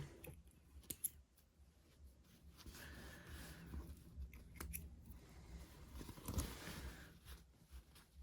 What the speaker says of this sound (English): Take it out and trim your wee threads.